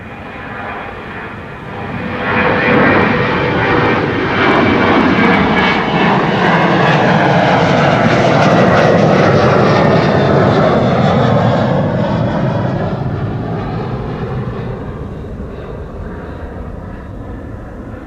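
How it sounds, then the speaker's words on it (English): A 14-year-old Sun Express Boeing 737-800 jet departs, its engine roar building, holding loud and steady for a long stretch, then slowly fading as it climbs away. "This is Sun Express, flight 1323, a 737-800,"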